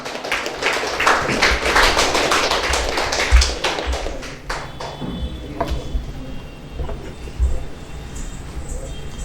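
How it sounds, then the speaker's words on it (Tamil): Audience applause at a Tamil astrology stage event as guests are welcomed onto the stage, a steady patter of many hands clapping that gradually thins out, with some rhythmic tapping near the end. "உங்களோட கையில் கொஞ்சம் தட்டுங்க"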